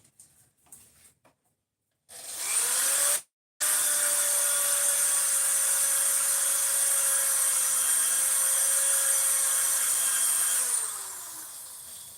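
A drill press bores through handmade beads, its motor spinning up and holding a steady, loud whine for about nine seconds after a brief pause, then winding down near the end.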